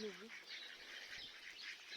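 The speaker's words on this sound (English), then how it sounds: "Here's a duck that wants to eat." A duck near the water gives a quick run of faint quacks at the start, then a steady outdoor wash of background noise continues without further calls.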